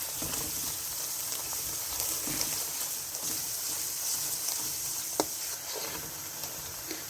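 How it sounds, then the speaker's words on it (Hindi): Garlic frying in a pan while cooking a restaurant-style gosht karahi, a steady close sizzle that holds at an even level throughout, with a sharp tick or clink near the end. "इसे 2-3 मिनट के लिए गार्लिक को भी आपने भून लें अच्छी तरह"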